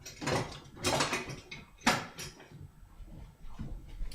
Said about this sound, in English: So go get your little spatula.